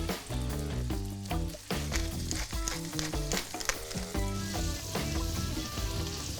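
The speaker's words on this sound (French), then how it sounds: "je balance mes carottes et je les laisse cuire tout doucement" Carrots cooking gently in foaming butter with garlic pieces, a continuous soft sizzle with scattered crackles under background music throughout, no speech.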